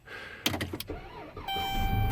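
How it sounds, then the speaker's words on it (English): A van engine is started in cold weather, a few sharp clicks and a brief cranking struggle, then the motor catching into a steady, loud running hum with a whine on top. "I'm gonna start the van"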